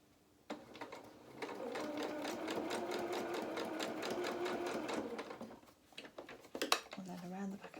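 A sewing machine stitches through felt for a doll's head in a steady whirring run of several seconds, ending in a few clicks and light handling noises, with a brief voice near the end.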